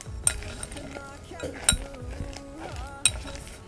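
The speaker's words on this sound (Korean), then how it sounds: "라즈베리랑 초코칩도 반죽에 넣고 섞어줄게요" Flour-coated frozen raspberries and chocolate chips are folded into pound cake batter in a bowl, with soft scraping and stirring broken by a few sharp clinks of a utensil against the bowl.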